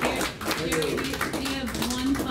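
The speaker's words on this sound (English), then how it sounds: "How about a huge round of applause?" An audience claps for a fine art photographer after a talk, a moderate spatter of hands that runs under someone speaking over it.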